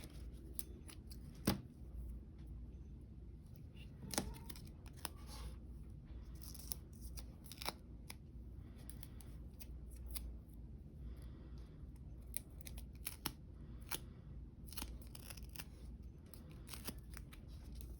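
Scissors snip through white sewing thread while a pocket letter is assembled: a series of sharp, close, quiet cuts spaced irregularly over a soft background.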